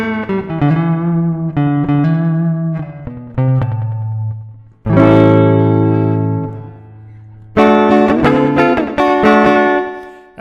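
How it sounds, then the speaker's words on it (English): Guitar played through a Boss DD-7 delay pedal set to a 200 millisecond delay time, with a chimey, sustained tone; ringing chords and notes repeat with short echoes trailing each strum, loud and close with no talking. "gives it kind of an echo. I like that. That's 200 milliseconds right there."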